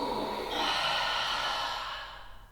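Long open-mouth exhale during a yoga breathing exercise, one steady breathy rush of air held for about two seconds before fading out, close and fairly quiet.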